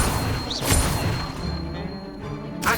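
A Levioso levitation spell is cast in Hogwarts Legacy, a quick swishing whoosh followed by a sharp crash-like impact and a lingering shimmer, with a second burst near the end over game ambience.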